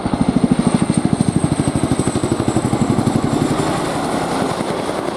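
An RAF Boeing Chinook HC.6 twin-rotor helicopter flies a tactical display at RAF Fairford, its loud rhythmic rotor thudding pulsing fast and close before smoothing into a steadier roar as it moves off.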